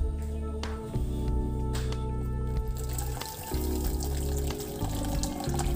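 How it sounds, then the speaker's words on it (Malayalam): Aloe vera juice is poured into coconut milk reducing in a pan for homemade aloe vera oil, giving a continuous close splashing trickle of liquid over a steady low hum, with no talk. "അലോവേരയുടെ ഓയിൽ, നീര് നമ്മൾ പിഴിഞ്ഞ് വെച്ചിട്ടുണ്ട് ജ്യൂസ്, അത് നമുക്ക് ഇതിലേക്ക് ഒഴിച്ചു കൊടുക്കാം"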